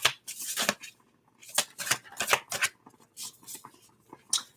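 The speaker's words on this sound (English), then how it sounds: "One more shuffle." Quick riffling bursts of cards being shuffled, several short crisp flurries with brief pauses between them, close by.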